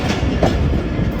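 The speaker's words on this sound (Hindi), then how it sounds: "शाम के 4:10 और पकड़ाला की लूप लाइन पे हमारी 48 डाउन रहमान बाबा एक्सप्रेस जा रही है" Rehman Baba Express passenger train running along a loop line in Pakistan, a loud, steady rumble of coaches with rhythmic clickety-clack from the wheels, close by and continuous.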